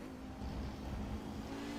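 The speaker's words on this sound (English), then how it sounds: "Let's just listen to that turbo" A turbocharged race car engine heard onboard during a GT Masters race, a low, steady mid-pitched drone held at constant revs for a couple of seconds, quiet and without talk.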